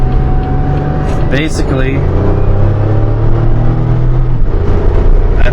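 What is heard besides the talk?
Pontiac Grand Prix engine revving in second gear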